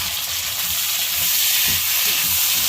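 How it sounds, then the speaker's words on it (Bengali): Chopped tomatoes and green chillies hitting frying ginger-garlic paste in a pan, a steady close sizzle with occasional stirring scrapes and no voices. "এবারে এর মধ্যে দুটো টমেটো কেটে রেখেছি আর কাঁচা লঙ্কা দিয়ে দেবো"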